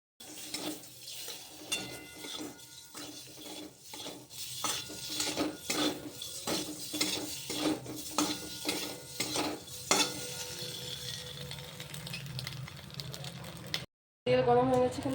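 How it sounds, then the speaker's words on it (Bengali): Boiled eggs fry in hot oil with salt, turmeric and chilli powder, a steady sizzle broken by frequent clinks and scrapes of a utensil against the pan, with a brief pause near the end. "এবার সিদ্ধ করা ডিমগুলো ভেজে নেব।"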